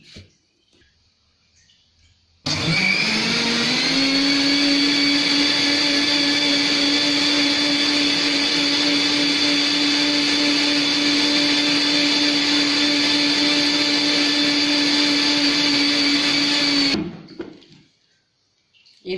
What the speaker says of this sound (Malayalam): എന്നിട്ട് ഇത് മിക്സിയിൽ ജാറിൽ അടിക്കുക.